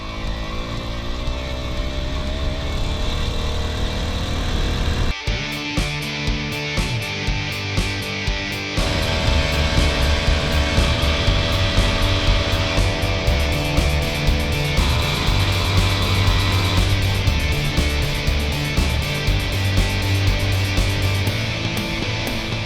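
A motorized bicycle's small engine running, a loud steady buzzing drone that shifts pitch partway through and then holds a higher, rougher tone.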